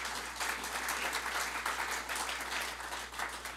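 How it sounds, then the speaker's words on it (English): An audience at a university strategic-plan event in the Quad Cities gives a round of applause, a steady, dense crowd clapping at moderate distance over a constant low electrical hum. "Let's give them a round of applause."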